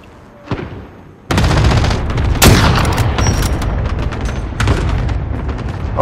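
Cluster strike in a video game, a loud rapid chain of blasts and rattling detonations, with a big boom partway through and a continuous roar of explosions that carries to the end.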